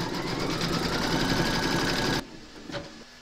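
Embroidery machine stitching round an appliqué pocket on dungaree bib fabric in the hoop: a steady, loud, rapid stitching whir for about two seconds, then it stops abruptly, leaving a quieter tail with a faint click.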